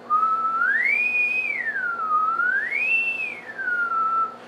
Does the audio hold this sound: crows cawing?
no